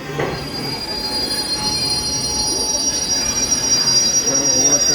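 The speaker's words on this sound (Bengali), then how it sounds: "ছেড়ে দিল ট্রেন" An SF express train pulling out of a station, its wheels giving a steady high-pitched metallic squeal over a low rumble that grows gradually louder as it gathers speed.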